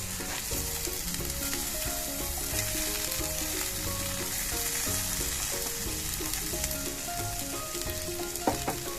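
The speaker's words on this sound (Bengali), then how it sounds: "তাহলে এবার আমি মশলাগুলো দিয়ে কষতে থাকবো।" Boiled winter vegetables with spices fry and get stirred in a pan for a Bengali mixed vegetable moong dal, a steady close sizzle with scraping stir strokes throughout and no talk.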